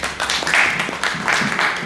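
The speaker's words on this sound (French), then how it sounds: "il faut l'applaudir" Audience at a Paris conference on peace in Guinea applauding, a brief dense wash of clapping, steady and fairly loud.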